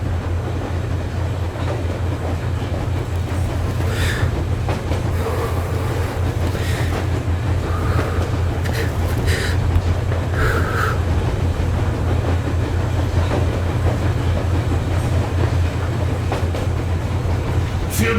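A train rolls along rails in Metro Exodus, a loud continuous low rumble with scattered metallic clanks and rattles throughout.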